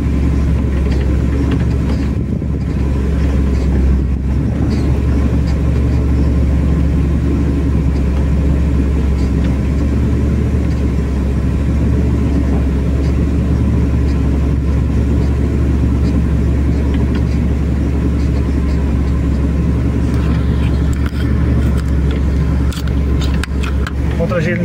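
A Volkswagen 15180 six-cylinder truck engine drones low and steady while climbing a mountain road, heard from inside the cab with someone talking over the continuous rumble.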